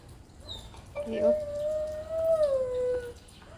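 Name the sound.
dog howling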